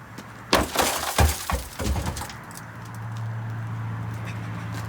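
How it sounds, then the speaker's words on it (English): A Jeep rear window's glass is smashed out, loud close crashes and shattering bursts followed by tinkling fragments and a steady low hum as the debris settles. "after you get this window busted out"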